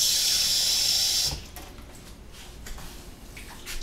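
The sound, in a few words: pouring water into hummus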